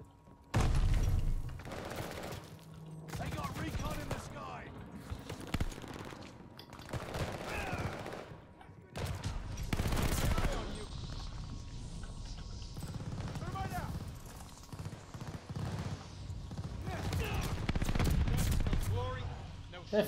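Video game gunfire aimed at a bomber: long bursts of rapid automatic shooting and heavy booms pile up in dense fusillades, with a player talking and exclaiming excitedly over the din throughout.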